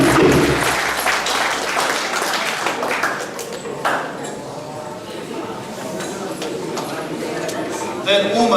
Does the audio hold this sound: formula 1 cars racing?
no